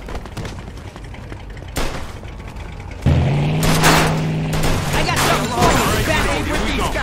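Gunfire crackles through a Mafia II shootout with the Greasers, bursts of shots and loud booms stacking into a dense fusillade, and an engine-like hum underneath in the second half.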